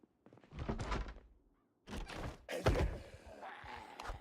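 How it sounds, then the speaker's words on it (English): In the Project Zomboid game, a zombie bangs on a door with heavy, close, irregular thuds that come in separated clusters with short quiet gaps between them. "someone is banging. Who can it be banging at my door?"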